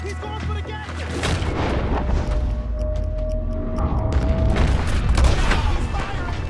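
A loud shootout in Red Dead Redemption 2 booms with heavy gunshots and rumbling blasts over a dense, continuous backdrop, with shouted voices mixed in throughout.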